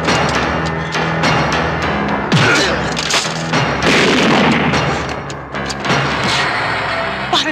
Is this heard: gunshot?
yes